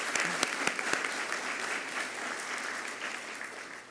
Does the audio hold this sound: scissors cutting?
no